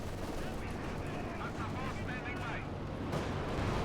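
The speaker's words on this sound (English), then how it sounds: "Gun is firing away there" Rapid, dense gunfire rattles steadily through a Company of Heroes 2 match between Wehrmacht and Soviet teams, with a voice talking over the continuous battle noise.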